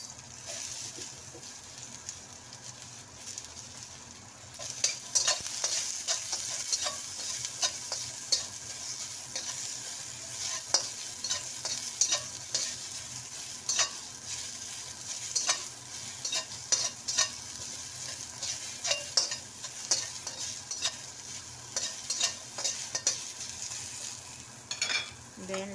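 Chopped onions stir-frying in a hot pan for a Shanghainese potato and minced beef dish, a steady sizzle with frequent scraping stirs throughout, close and fairly loud with no talking.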